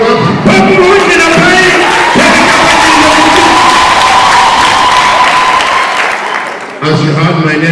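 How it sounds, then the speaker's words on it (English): A church congregation at a preaching service in Nairobi breaks into loud, continuous applause mixed with cheers and whoops, a full roaring crowd that fades briefly before voices pick up again at the end. "Give Jesus another big clap."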